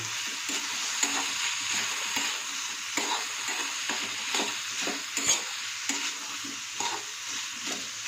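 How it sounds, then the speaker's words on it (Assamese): Potato and bitter gourd frying in a pan on a gas stove, a continuous close sizzle broken by repeated scraping stirs at an uneven rhythm. "এয়া ভজা প্ৰায় হৈ আহিছে, আৰু অকণমান টাইম হ'বলৈ দিব লাগিব।"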